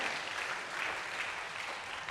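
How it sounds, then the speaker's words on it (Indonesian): A church congregation applauds during a worship service, a dense, even wash of clapping heard at moderate distance without clear individual claps. "Beri tepuk tangan dulu yang meriah buat Tuhan kita"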